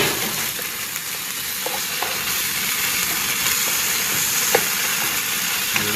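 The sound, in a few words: sautéing laksa curry paste in a pan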